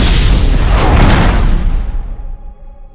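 A huge explosion from the Hellboy movie, a loud sustained boom with roaring rumble that fades out over a few seconds.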